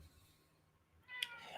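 A house cat gives one short meow, faint and somewhat distant, after a near-silent stretch with a low background hum.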